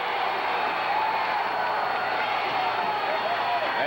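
Arena crowd noise from a 1981 Memphis wrestling match, a continuous, even roar of cheering and some clapping that holds steady from start to finish.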